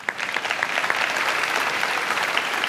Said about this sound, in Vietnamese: Và bây giờ chúng ta cùng dành một tràng vỗ tay